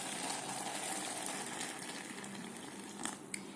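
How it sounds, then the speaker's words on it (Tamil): Hot water pours into a hot pack over half a glass of peas until they are submerged, a steady close gushing hiss of filling liquid with a small clink near the end. "சூடாக அது மூழ்கிற அளவுக்கு தண்ணி ஊற்றிட்டு"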